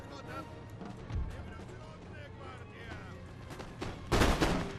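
Musket volleys in Napoleon: Total War, a Prussian attack, booming in rolling, crackling bursts with the heaviest burst near the end, under a layer of battle noise and speech.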